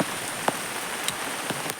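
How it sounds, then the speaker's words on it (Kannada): Rain falling steadily outdoors in a wet rural area, a soft continuous patter with a few sharper drips landing close by, fairly faint and with no talking. "ನೋಡಿ ಮಳೆ ಹೇಗೆ ಬಂದಿದೆ, ನೀರು ಹೇಗೆ ಉಂಟು ಅಂತ"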